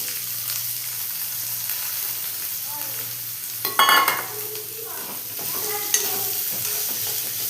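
Chopped onions fry in a pan with ginger and garlic for paneer matar, giving a steady soft sizzle throughout, broken by a few louder scraping stirs and clinks of the spoon against the pan, with no talk.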